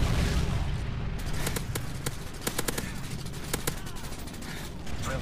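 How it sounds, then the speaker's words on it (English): Rapid gunfire and explosions from a predator missile strike in Call of Duty, a dense barrage of sharp cracks and booms, loud and continuous. "Friendly predator missile inbound."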